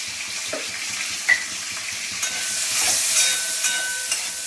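Mango pieces and turmeric fry in a pan with a steady close sizzle and hiss, broken by occasional scraping taps as the mixture is stirred, with no voices.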